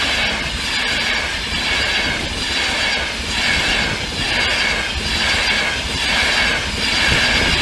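Rail traffic passing the Kesteven Sidings level crossing, a loud, steady roar with a faint rhythmic pulse running unbroken throughout, close by and alone with no talk.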